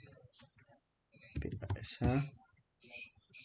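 Quick clicking keystrokes on a computer keyboard while a shell command is typed, light taps clustered in short bursts with a voice talking over them.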